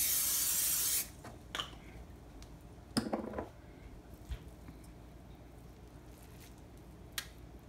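A loud burst of cooking spray onto a pan hisses for about a second, followed by quiet clicks and a brief sizzling rustle.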